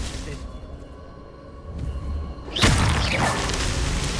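Confringo blasting curse in Hogwarts Legacy, a sudden loud explosive burst with a whooshing, crackling tail after a quieter stretch with a voice calling out.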